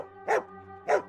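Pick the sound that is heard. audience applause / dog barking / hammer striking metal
dog barking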